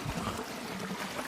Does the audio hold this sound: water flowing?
yes